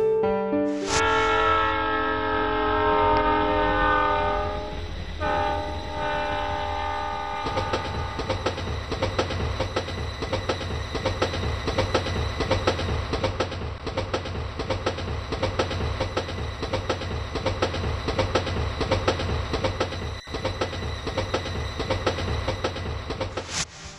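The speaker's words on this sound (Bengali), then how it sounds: "প্রচন্ড গতিতে ট্রেন চলছে" After a brief tonal opening, a train rolls fast and steadily along the tracks with a rapid, repetitive clatter that stays loud throughout.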